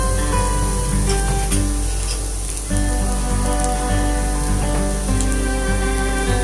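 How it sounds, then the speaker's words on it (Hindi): Pasta cooks in a hot pan with oil, Indian style, giving a loud, continuous close-up sizzle. Occasional stirring scrapes break through the hiss, and no one speaks. "इस तरीके से इसको स्टीर करिए जब तक ये अच्छी तरीके से पक ना जाए"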